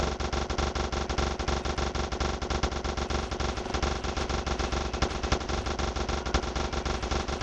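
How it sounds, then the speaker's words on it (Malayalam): A minigun in the video game Vegas Crime Simulator fires in one unbroken, rapid stream of shots that stays loud and steady throughout, with no talking over it. "മിനി ഗണ്ണാണ്. ഇങ്ങനെ ഇത് വെടിങ്ങനെ പോയിക്കോളും."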